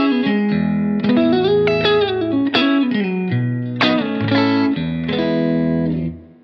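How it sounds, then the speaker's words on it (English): An electric guitar played through a Fender reverb pedal and a Deep Blue Delay pedal: loud, bright chords and single notes with long reverb and echo tails, strummed in a loose rhythm before fading out at the end. "I'm gonna put the reverb back on, that's that Fender reverb, with the deep blue delay."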